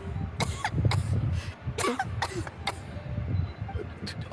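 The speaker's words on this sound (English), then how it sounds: "How long have you had that cough, Tonya?" A character in the video game Genshin Impact coughs repeatedly in rough, close bursts, several hacking coughs spread across a few seconds with some breathy vocal sounds between them.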